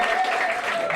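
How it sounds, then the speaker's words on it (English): An audience claps in steady applause, a dense wash of many hands without pause. "no, don't clap at that. Don't clap at that."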